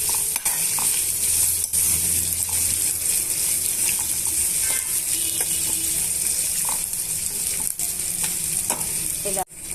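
Chopped onion and green chillies fry in a pan with a loud, steady sizzle, and a spatula stirs and scrapes through them close up, with a few sharper knocks.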